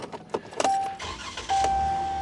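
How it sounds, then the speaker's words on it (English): A Ram 1500 pickup truck cranks and its engine catches, settling into a steady idle after a couple of short clicks, heard close up inside the cab with no talking. "turn the truck on"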